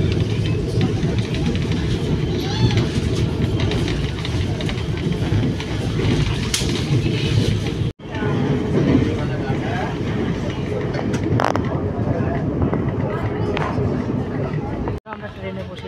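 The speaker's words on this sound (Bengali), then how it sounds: "আমরা ট্রেনে বসে গেছি। এই বন্দে ভারত যে ট্রেনটা, এটা পুরোটাই চেয়ার কার" Interior of a moving Vande Bharat chair car train, a loud, constant low rumble and rushing hum with two brief dropouts, and people talking over it.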